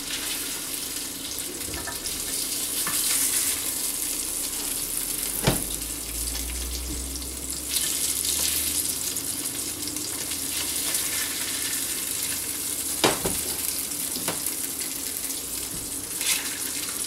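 Fish frying in oil in a pan, a steady broadband sizzle running throughout with a few sharp clicks and a low rumble midway, no voices.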